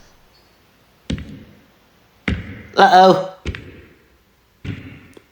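Heavy footsteps thud on a platform in a creepy horror-story scene, four separate booming steps spaced about a second apart, with a short spoken exclamation between them.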